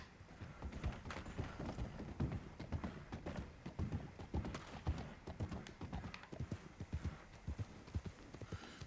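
Horse hooves clip-clop steadily in Red Dead Redemption 2, a continuous rhythmic trot close up with occasional faint whinnies and a busy game soundscape around it.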